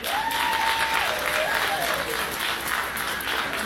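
A comedy club audience breaks into loud, sustained applause and cheering, a dense wash of clapping with crowd voices mixed in, continuing without a break.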